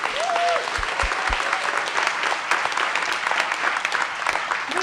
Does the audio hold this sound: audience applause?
yes